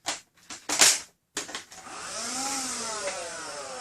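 An Adventure Force Accelerator toy car with a boosted rechargeable battery gives a few clicks and whirring bursts, then revs up into a steady, high, whining motor hum that holds close and loud to the end.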